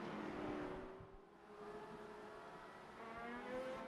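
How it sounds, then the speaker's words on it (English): Pro stock race cars circle the Tucson Speedway oval, a steady loud engine drone with rising and falling pitch as cars run through the turns, continuous throughout. "And making his way through 3 and 4 one more time, Richard Dorman gonna be your race winner"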